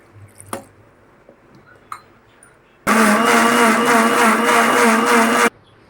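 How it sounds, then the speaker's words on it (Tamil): A mixer grinder starts up and runs loudly for a few seconds with a dense whirring roar, grinding spice paste for chicken gravy with added water, then stops abruptly; faint clinks come before it. "இன்னும் கொஞ்சம் தண்ணி போட்டு நைஸாக அரைச்சிக்கலாம்"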